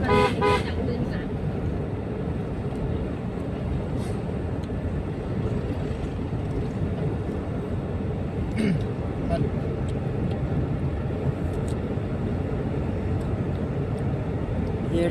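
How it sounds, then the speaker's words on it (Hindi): A large truck rumbles past on a rural road, a loud continuous low engine roar with a horn toot near the start, while someone talks over it. "एक और बड़े ट्रक आ रहा है।"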